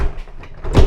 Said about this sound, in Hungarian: Ajtót bezárjuk.